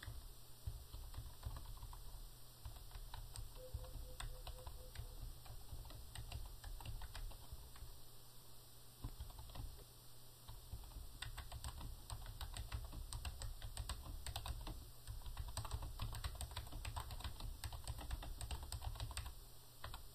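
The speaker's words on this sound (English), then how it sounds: "I'll just type something fairly short." Continuous typing on a computer keyboard while entering an invoice cancellation policy, a steady run of close, soft key clicks over a constant low electrical hum, with no speech.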